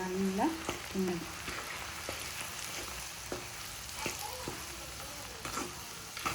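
Ground spice powder being stirred into an amla pickle in a pan of hot oil, a moderate frying sizzle broken by scattered scrapes and knocks of stirring, with brief bits of speech-like sound near the start.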